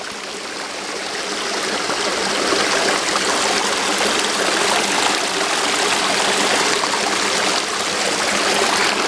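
A stream rushes over a waterfall in a steady, loud, broadband roar that swells slightly after the first couple of seconds and continues without pause, with no voices.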